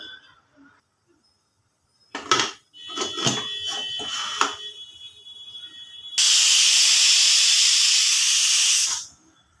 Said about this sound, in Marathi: तर आपण कुकरला शिट्टी लावून घेऊया.